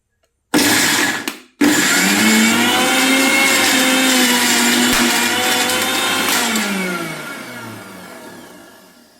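A kitchen mixer grinder whirs loudly as it grinds chammanthi chutney, starting abruptly, cutting out for a moment, then running steadily before slowly winding down at the end.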